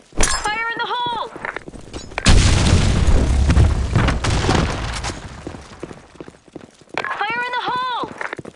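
A grenade blast in the shooter video game Blackshot erupts loudly after a short burst of voice chatter, then a broad rumbling roar slowly fades over several seconds, and more voice returns at the end.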